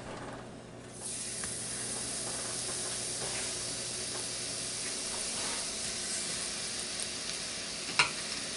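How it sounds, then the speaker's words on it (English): Pork chops drop into hot grease in a pan and sizzle with a steady, close frying hiss that holds throughout, with a brief sharp spatter near the end; no talking. "So I'm going to go ahead and put the pork chops in."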